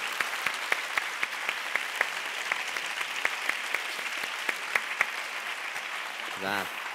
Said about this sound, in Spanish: pedir un fuerte aplauso para, para estos maravillosos